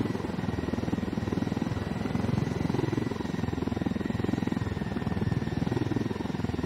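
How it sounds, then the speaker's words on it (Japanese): A helicopter in the video game Ghost Recon Wildlands drones with a steady, fast rotor chop, moderately loud and continuous, with no talk over it. "さあ、ヘリは、ここだ。"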